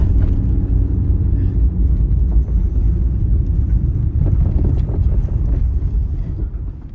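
A 1999 Toyota Corolla engine labours while accelerating up a hill, a loud, continuous low rumble with wind buffeting across the microphone and no talk.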